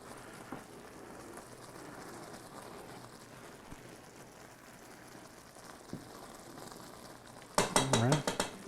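A pot of hot candy mixture hisses steadily as pure vanilla extract is stirred in, with faint utensil scrapes. A loud, rapid bubbling and spattering burst erupts at the close. Nobody speaks.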